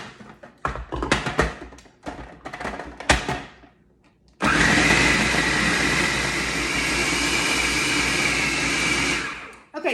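A blender churns peanuts into peanut butter. A few seconds of uneven clattering bursts come first, then a loud, steady motor whir runs without a break for about five seconds before cutting off.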